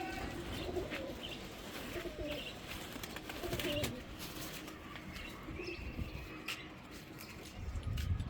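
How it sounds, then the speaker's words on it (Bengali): Flying pigeons at a pigeon farm coo repeatedly in soft, throaty calls, with occasional chirps and brief wing flaps against a busy background. "ওর কাছে যেসব কবুতর আছে সব হইলো উড়ন্ত কবুতর"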